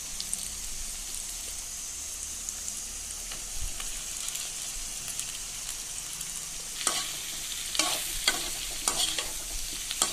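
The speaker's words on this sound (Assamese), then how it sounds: "পিঁয়াজ ভজা হৈ যোৱাৰ পিছত তাত মই কচু আৰু আলুৰ টুকুৰাকেইটা দি দিছোঁ।" Taro and potato pieces frying in hot oil over already-fried onion, with a steady sizzle throughout and scraping stir strokes that grow busier and louder toward the end.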